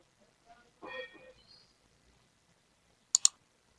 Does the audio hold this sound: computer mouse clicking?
yes